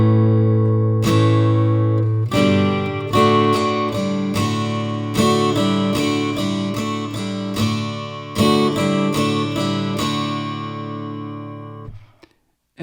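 A single guitar plays a chorus riff in crisp, rhythmic picked notes and short chord stabs, repeating a pattern before a final ringing note fades out.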